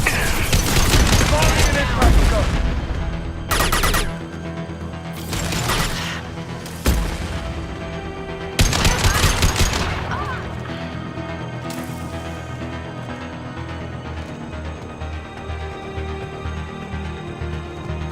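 Gunfire in a Mass Effect 2 firefight: sharp volleys and bursts of shots in clusters, loud at first and then fading into a lingering mechanical hum, with voices in between.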